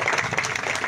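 Audience applause at a public gathering marking the suspension of a hunger strike outside the Barshi tehsil office, a dense, steady wash of clapping lasting about a second.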